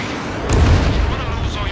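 A missile striking an aircraft in the combat flight game Ace Combat 7, a sudden loud booming blast that rolls into a rumbling roar, heard alongside game radio chatter.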